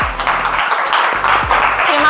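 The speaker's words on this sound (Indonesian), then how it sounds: "Tepuk tangan buat kelompok 1." Applause for group 1 in a classroom: a short burst of clapping from a group of people, mixed with talking and background voices.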